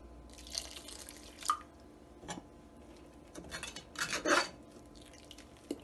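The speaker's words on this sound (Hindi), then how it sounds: "थोड़ा सा इसमें पानी डालेंगे।" Water is poured into a pot of cooking spinach daal, with soft intermittent splashes and drips, a few louder pours and light pot clinks, quiet and close with no talking.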